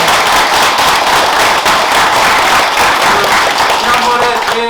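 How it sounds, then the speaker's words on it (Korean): A crowd at a political rally for a district office candidate claps loudly and steadily, with scattered voices within the sustained applause. "수고하신 허영환 후보께 다시 한번 응원의 박수 부탁드립니다."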